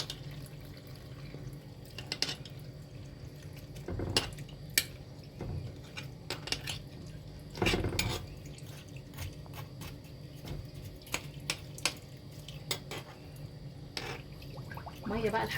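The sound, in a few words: water poured into olive pickling jars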